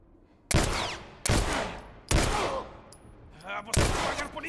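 Gunfire in the video game The Last of Us Remastered in a snowy setting: four sharp, loud gunshots spaced roughly a second apart, each with a short ringing decay.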